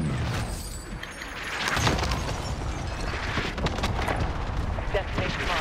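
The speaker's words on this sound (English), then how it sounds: "Allied cluster strike inbound." Cluster strike explosions in Call of Duty on the Bone Yard map: a dense, continuous barrage of rumbling booms and crackling blasts, with a voice speaking over the din.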